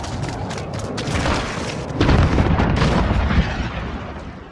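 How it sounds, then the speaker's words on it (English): A cruise missile explosion in Call of Duty Modern Warfare lands as a loud, heavy boom with a long rumbling tail and debris noise, which swells sharply midway through and then slowly fades. "Enemy cruise missile."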